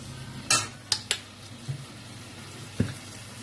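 Chicken and vegetables stir-fried in a pan for chowmein, heard as a few sharp metallic clanks of a utensil against the pan over a quiet background, with a soft low scrape in between.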